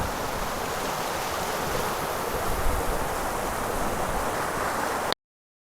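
A mountain river in the Juta Valley rushes steadily in a dense, broadband roar, close and loud, with some wind buffeting the microphone, ending abruptly in silence.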